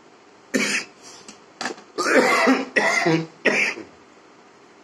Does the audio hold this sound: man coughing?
yes